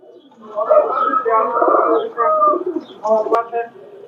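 Pigeons coo in low, throaty bursts on a Pakistani pigeon farm, fairly close and steady, with voices or background chatter mixed in.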